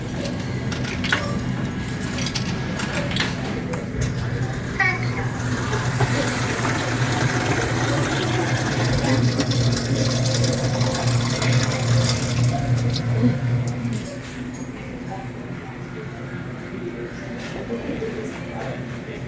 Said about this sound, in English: Filling up on some water while we're at Publix.